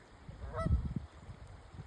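A Canada goose gives a single faint honk in the distance against quiet outdoor background noise.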